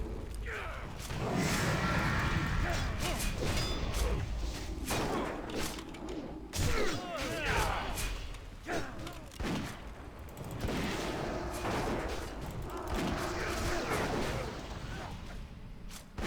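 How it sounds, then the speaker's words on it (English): Bombs hurled and bursting in World of Warcraft: Wrath of the Lich King, a steady run of thuds and blasts with clattering combat noise throughout, fairly dense and continuous over the whole stretch. "Help! Help! Throwing bombs."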